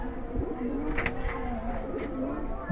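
Domestic Giribaz pigeons in a fancier's loft in Rupganj coo in low, rolling repeated notes at close range, a steady series of throaty calls over light background rustle.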